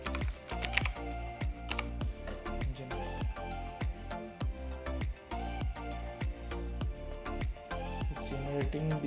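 Fast, crisp keystrokes on a computer keyboard, a steady run of sharp clicks and taps close to the microphone with a few louder strikes near the start, and no talking.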